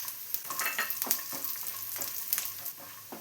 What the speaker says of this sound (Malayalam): ഇപ്പോൾ തേങ്ങാക്കൊത്തെല്ലാം ഒന്ന് ഫ്രൈ ആയി വരുന്നുണ്ട്.